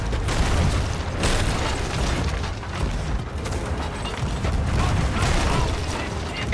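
Cannons fire aboard a pirate ship in the video game Sea of Thieves, heavy booming blasts blending into a dense, continuous rumble of mechanical clatter and creaks that stays loud throughout.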